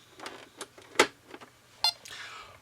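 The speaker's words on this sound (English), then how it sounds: "you have this little beeping sound that goes on. That represents like a radar screen going on." Lakeside Electronic Intercept handheld game emitting its radar beeping: a series of short, sharp electronic bleeps at irregular intervals, close and fairly loud, with no talking.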